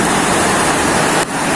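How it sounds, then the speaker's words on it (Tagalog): Large waves churning on a rising, flooded river, a loud continuous roar and rush of water heard close up, briefly dipping near the end, with no speech. "Ang lalaki ng alon."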